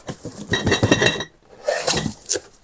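Porcelain dishes clinking and clattering inside a cardboard box, with two bursts of close, bright rattling separated by a brief pause.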